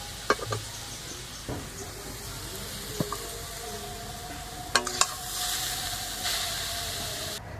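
Carrots frying in ghee in a pan, giving a soft steady sizzle with a few clinks and stirring scrapes, and a faint hiss swelling near the end.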